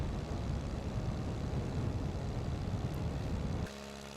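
The Klemm KL25D vintage aircraft's engine in MSFS 2024 drones steadily at moderate loudness with a broad rumbling buzz, then drops abruptly to a quieter, smoother idle-like hum near the end.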